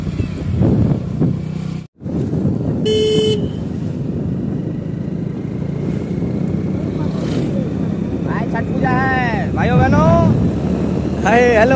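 A car on the road during a Chhath Puja trip in India, its engine and road noise rumbling steadily, with a short, loud horn toot partway through and people talking throughout.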